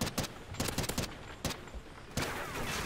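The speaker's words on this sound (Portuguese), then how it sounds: "Errei todos os tiros" Rapid automatic gunfire in a first-person shooter video game, several sharp bursts of shots separated by brief pauses and ending in a sustained rattle, loud and close with no talk over it.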